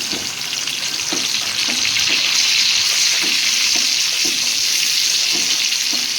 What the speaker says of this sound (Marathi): थोडा वेळ अजून फ्राय करते जरा बरोबर झालेले बऱ्यापैकी फ्राय करते